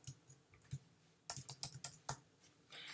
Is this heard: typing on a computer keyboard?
yes